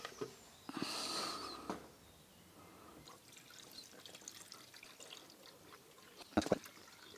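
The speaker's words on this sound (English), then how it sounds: "let's see if we can put some cooling liquid in" Cooling liquid poured into the engine of an old Formula Konig race car, a gurgling rush of liquid up close for about a second, then quieter trickling and drips, with a brief louder splash near the end.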